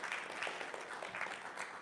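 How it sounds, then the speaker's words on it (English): Brief burst of audience applause during a talk, a steady crackle of many hands clapping at moderate level with no speech over it. "you can applaud that"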